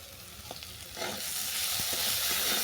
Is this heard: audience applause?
no